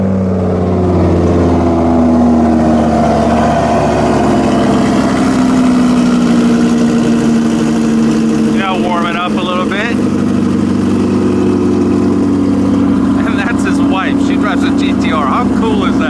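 A 2,200 horsepower twin-turbo Audi R8 with a fully built engine, transmission and drivetrain, a loud steady low engine drone and rumble running throughout, with voices talking over it.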